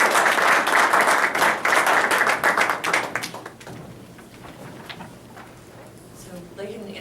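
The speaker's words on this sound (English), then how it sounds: "I think a well-deserved round of applause is in order." An audience applauds two honored basketball figures at a presentation, a loud burst of clapping for about three seconds that thins to scattered claps and quiets, with some voices beneath.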